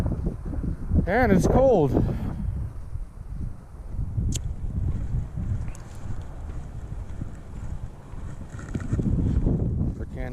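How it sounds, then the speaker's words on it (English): Gusty Colorado wind buffets the microphone on a cold morning of bass fishing, a steady low rumble that swells and eases throughout while someone talks over it. "Oh, this friggin' Colorado wind, man."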